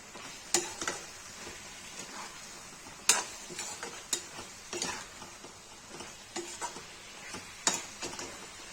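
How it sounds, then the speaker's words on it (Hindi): Tomato and eggplant fry quietly in a pan, a soft steady sizzle broken by sharp intermittent taps and scrapes of a spoon stirring against the pan, with no talk. "टमाटर डाल देंगे, फिर बैगन डाल देंगे।"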